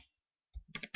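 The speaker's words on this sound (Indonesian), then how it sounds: "Kita ketikkan di sini" Brief close keystrokes on a computer keyboard, a short cluster of quick clicks following a moment of silence.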